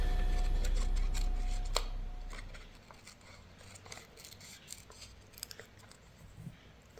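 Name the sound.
scissors cutting paper strips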